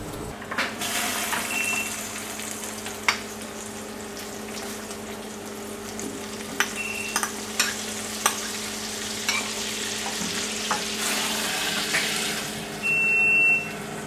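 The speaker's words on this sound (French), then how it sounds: "On va incorporer le beurre et on va cuire 6 minutes pour la coloration des oignons." Onions cook in butter inside a Maxichef R151A cooker, a steady close frying sizzle with scattered stirring clicks and taps and a brief louder hiss near the end; no one speaks.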